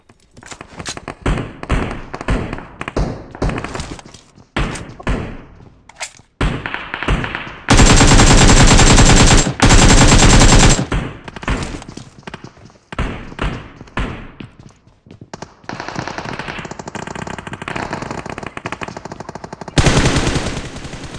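Loud bursts of automatic gunfire from BGMI / PUBG Mobile gameplay, M4 rifle, with rapid repeated shots broken by two long sustained sprays of fire, close and dominant.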